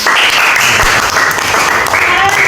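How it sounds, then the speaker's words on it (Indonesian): Students in an Indonesian civics classroom clap for a classmate, with loud, dense applause filling the room and voices mixed in beneath the clapping. "Terima kasih, tepuk tangan"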